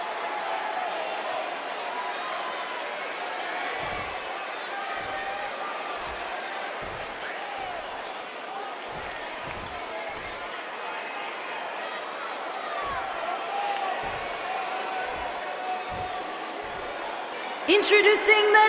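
Wrestling arena crowd at a one-on-one match, a steady roar of cheering and chatter filling the hall with scattered thumps, swelling louder near the end as a fighter is introduced.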